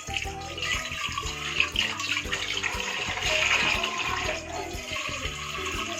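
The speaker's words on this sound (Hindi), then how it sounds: "बस थोड़ा सा पानी डालना" Tap water runs steadily and splashes while sweet potatoes are washed and soaked in a kitchen sink, a continuous close rushing with small shifts as hands move through the water.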